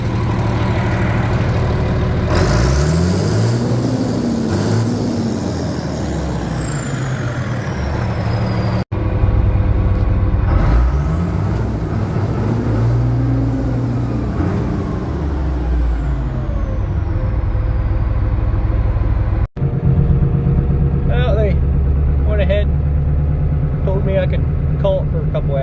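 A large truck engine rumbles and revs repeatedly in an echoing parking garage, with rising and falling pitch sweeps and a hiss of air near the end.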